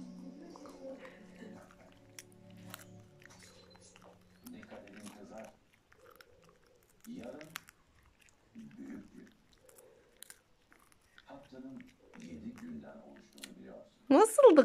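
A dog crunches a reward treat in a few short, sharp bites, close up, with a person talking warmly between the crunches.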